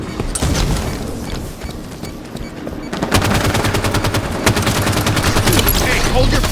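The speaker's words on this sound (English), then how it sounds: "Tossing a nade." Grenade blasts and rapid automatic gunfire in the Halo 5: Guardians Slayer match on the Plaza map, with a steady rattle of shots that grows denser and louder partway through and keeps up continuously.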